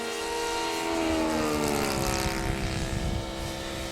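An RC aerobatic airplane, the Addiction, buzzes overhead during a slow roll, its propeller whine holding steady with harmonic tones that shift slightly in pitch as it moves.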